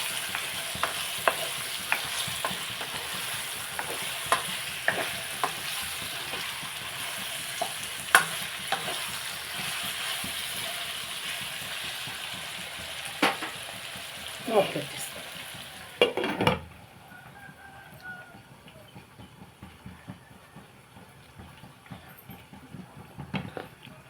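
Brinjal and mango pieces cook in a pan with steady frying sizzle and intermittent stirring scrapes and clinks, louder through the first sixteen seconds, then quieting to a soft simmer without speech.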